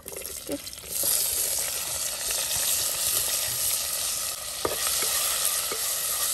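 Onion, green chillies and tomato fry in oil in a clay pot for a village chicken soup, giving a steady close sizzle with occasional stirring scrapes and taps and no talking.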